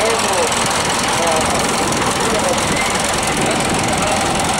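A vintage tractor with a 7-liter, 60-horsepower engine runs at a tractor meet in Brørup, giving a loud, continuous, dense knocking engine roar with a rough, steady texture throughout.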